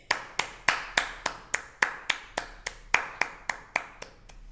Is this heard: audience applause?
yes